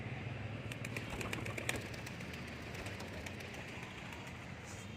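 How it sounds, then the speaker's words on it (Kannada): Pigeons gathering to eat grain scattered for them, with faint soft cooing and brief wing flutters against a quiet, low engine-like rumble in the background. "ಜೋಳ ಅಂದರೆ ನೋಡಿ ಹಿಂಗೆ ಓಡಿ ಬರ್ತಾವೆ ಹಕ್ಕಿಗಳು."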